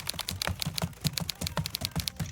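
Fast, close clicking of keys on a computer keyboard, a quick irregular patter of crisp taps with no one speaking.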